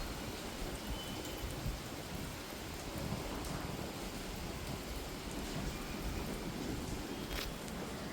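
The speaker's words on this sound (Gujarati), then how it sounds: "આજ તો વરસાદ આવ્યો" Soft, steady rainfall hisses evenly in the background, constant and fairly distant, with no voices.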